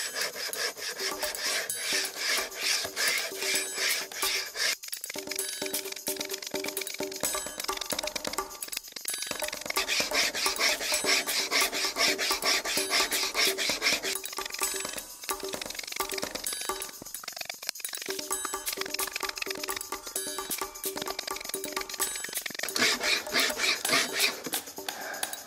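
Continuous rasping of a wire saw cutting through wood, a gritty back-and-forth scraping that keeps up for the whole stretch with brief dips.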